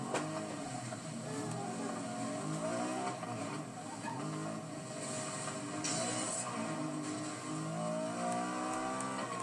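A Bentley's engine drones steadily while driving in Need for Speed: Most Wanted, with continuous rising and falling engine tones at a moderate, even level and no talk.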